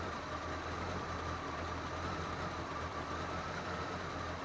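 A car engine idles steadily at about 600 rpm while warming up, with a low, even rumble and a broadband hum that stays constant and moderately quiet throughout.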